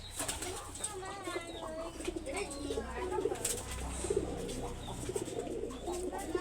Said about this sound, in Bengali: বিভিন্ন জাতের কবুতর আছে